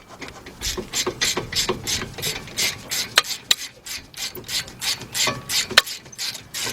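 Ratchet with a 13mm deep socket working the strut bolts on a 2001 Ford Windstar front suspension: steady, close clicking strokes, repeated rhythmically, with a few sharper metallic knocks and no talking.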